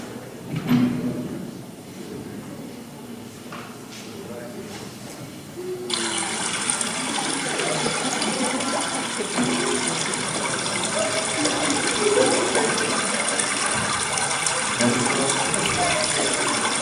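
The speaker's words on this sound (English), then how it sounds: "the water's leaking and it's already all over the kitchen floor" Steady rushing gush of water leaking onto a kitchen floor during a staged school performance, starting softly then swelling to a constant broadband wash, with faint voices beneath it.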